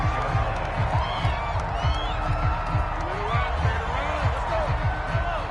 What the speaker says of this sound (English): this crowd has certainly liked what they've seen